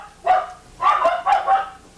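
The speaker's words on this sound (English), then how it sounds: "Sounds like barking. Yeah, and it's coming closer. It must be a big dog." A big dog barks three times in quick succession, loud and close and alone with no talk over it.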